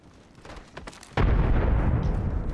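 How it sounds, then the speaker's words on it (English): Grenade blasts in the shooter game Apex Legends, one sudden loud broadband boom that then roars on and rumbles to the end, following a quieter stretch of scattered game noise. "Grenades."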